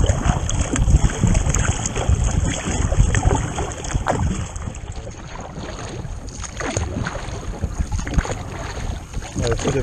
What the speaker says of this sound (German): dass selbst hier am Rand schon kleine Wellen sind, die halt ordentlich Power haben